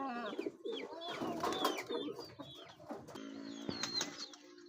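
Pigeons coo near their coop amid brief wing flaps and other soft bird calls, close and continuous over a few seconds.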